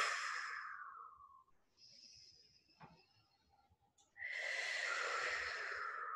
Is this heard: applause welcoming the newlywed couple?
no